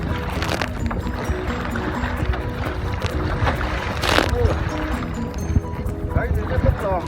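Wind and waves at sea around a small fishing boat, with constant rushing noise, slapping water and a burst of splash near the middle, while people talk over it.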